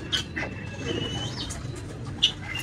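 Racing pigeons coo softly at close range, with a few brief chirps and wing rustles over a low, steady background.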